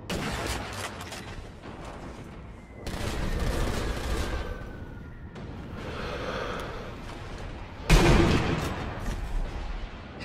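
Gunfire in the video game Sniper Elite V2 cracks out in several shots, with a loud blast near the end amid battle ambience. Players talk over the action.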